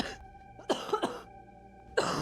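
A person coughs harshly several times in a short close burst, with throat-clearing rasps, then a final loud cough after a pause, over steady background tones.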